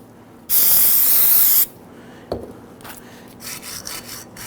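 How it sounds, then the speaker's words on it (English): One loud, sustained aerosol burst of solvent cleaner of about a second on a brake bracket of a 2011-2017 Nissan Quest, followed by quieter rubbing and scraping sounds. "Use your spray solvent."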